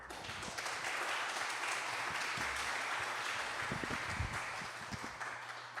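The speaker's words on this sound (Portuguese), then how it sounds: "Salva de palmas, por favor." Audience applause welcoming a poet and physics teacher to a poetry and prose conversation event, a steady wash of clapping throughout, moderately distant, with faint voices underneath.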